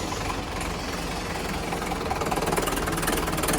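A tractor engine runs steadily after a tyre change, a continuous loud diesel rumble that grows a rapid pulsing knock in the last second, with no voices.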